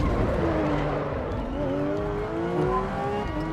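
A Porsche 992 GT RS in a racing game on the Nordschleife holds a steady, loud engine note that climbs in pitch as it accelerates, with a faint tire squeal and no talk.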